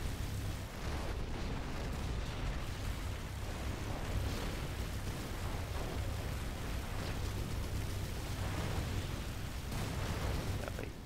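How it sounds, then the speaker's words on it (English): Militia artillery firing in the Rise of the Reds strategy game, a dense, continuous barrage of rumbling booms and bursts, faint and without talk. "Militia artillery still dealing damage here."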